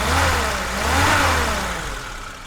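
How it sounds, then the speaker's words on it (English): A 1977 Lada Niva VAZ 2121 with its 1.6 liter engine revs up close by, the pitch climbing and falling in a loud, continuous surge with no talking. "I'm gonna rev up the engine."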